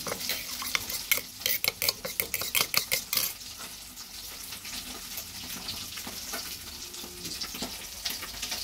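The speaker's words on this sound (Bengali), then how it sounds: "এবার মশলাগুলোর মধ্যে হালকা একটু জল দিয়ে মিশিয়ে নেব" Spices being stirred with a little water into a paste for a cauliflower and pabda fish curry, a quick series of close scraping, clinking strokes for about three seconds, then softer continuous stirring.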